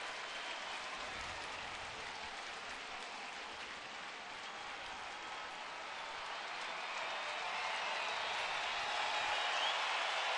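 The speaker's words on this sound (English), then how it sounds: "Crowd making a little noise here with 1 out in the 9th." A baseball crowd at Progressive Field in Cleveland with one out in the ninth, a broad, distant wash of cheering and clapping that stays steady and swells toward the end, without commentary over it.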